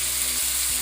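Chopped onions sautéing in hot oil after mustard seeds have popped, a loud steady sizzle close up with no talking.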